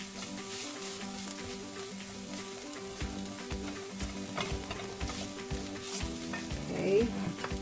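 Shrimp sizzling in a hot pan with onion and garlic powder, a steady crackling fry with repeated scraping and stirring strokes of a utensil against the pan, close and fairly quiet, no voices.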